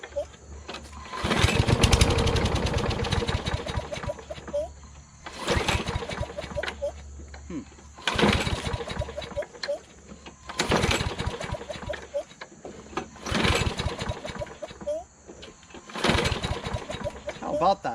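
A John Deere JS26 self-propelled lawn mower with a 6.75 Briggs Quantum engine after a carburetor swap, cranked in repeated bursts that catch briefly and sputter out, each pull separated by short quiet gaps.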